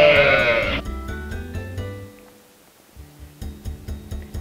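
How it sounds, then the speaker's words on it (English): A sheep bleats once loudly up close, a wavering cry, then shorter fainter bleats and farmyard clatter follow after a brief pause. "Sheep are farm animals too."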